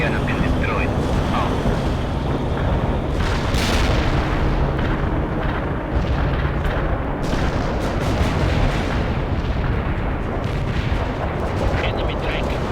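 Tank platoon firing during a battle in World in Conflict: a steady, loud roar of artillery-like booms and gunfire runs through the whole stretch, with occasional sharper blasts and radio voices underneath.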